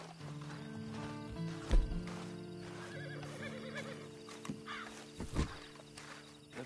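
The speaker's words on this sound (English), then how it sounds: "Then you better get on this horse." A horse in the PS4 game Red Dead Redemption 2 Online gives a couple of quiet whinnies while its hooves clip-clop at a walk, over faint sustained background tones.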